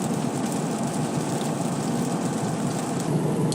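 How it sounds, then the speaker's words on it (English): Steady rain falling outdoors on a rainy day at a metal roof installation site, a dense even hiss of drops with no gaps, fairly close and constant throughout. "it's nice and rainy out today"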